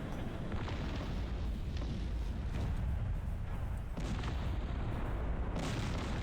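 A defensive tower fires in the Cossacks strategy game amid a dense battle din of repeated booming artillery-like shots and rumbling blasts, with sharper bursts near the middle and end, fairly quiet overall and without talk.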